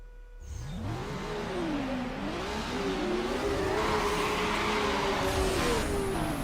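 A car engine in Need for Speed: Underground on PS2 revs up and holds a high, wavering whine, climbing and dipping in pitch as it accelerates steadily, with no talking.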